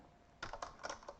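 A computer keyboard being typed on to enter a command, a short burst of about five crisp keystrokes, close and clear, over a faint room hiss with no voices.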